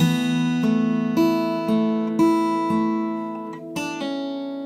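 Plucked guitar notes of a bar of music from The Last of Us Left Behind ring out one after another at an even pace, some overlapping, clear and close with no talking.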